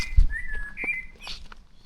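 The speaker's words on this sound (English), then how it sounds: "Hear the birds." Birds singing in a city setting, with a few thin whistled chirps and short calls, fairly faint and close together, heard against quiet outdoor background noise.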